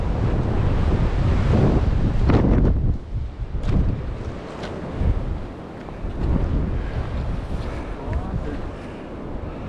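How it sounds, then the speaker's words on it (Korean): Strong gusts batter the microphone on a mountain trail toward the Gajisan summit, a loud roaring rumble that rises and eases in waves, with no clear speech over it. "아직까지 어, 바람이 많이 불고 있고요"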